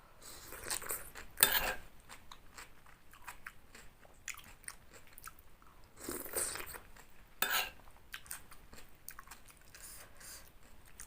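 Eating a crunchy spicy cucumber salad with grilled pork and sticky rice, close faint crunching bites and chewing in irregular bursts with occasional light clinks of cutlery, no talking.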